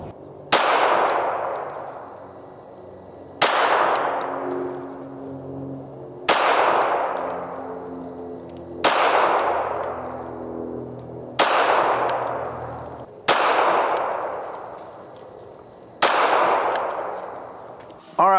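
Seven sharp gunshots from a Springfield Armory Echelon 4.0 FC pistol ring out at a slow, even pace about every two and a half seconds, each a loud crack with a ringing decay and no voices.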